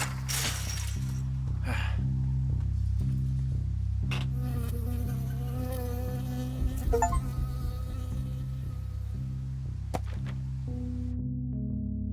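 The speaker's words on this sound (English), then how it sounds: "got stung by a bee" A bee buzzes in the video game Firewatch, a steady droning hum running for many seconds alongside game sounds and a few sharp clicks.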